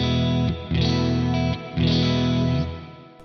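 Clean electric guitar with no effect pedal, strums ringing out in sustained chords, a few repeated strokes with brief gaps, full and close, fading at the end.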